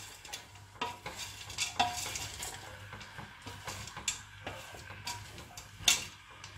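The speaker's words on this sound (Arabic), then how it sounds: "نحركو الخليط ديالنا مزيان يعني نقليوهم مزيان" A cooking mixture being stirred in a pan, with soft scraping strokes and light sizzling at close range, steady and quiet with no talk.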